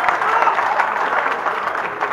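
An audience at a poetry recitation breaks into applause, a dense, continuous clapping from a crowd that holds steady from start to finish without any voices over it.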